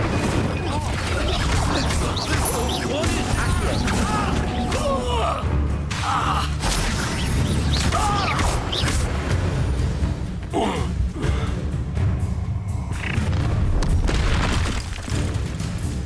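Incendio fire spells go off in Hogwarts Legacy amid dense battle noise, a run of heavy booming bursts and crackling impacts over about sixteen seconds, loud throughout with brief vocal sounds mixed in.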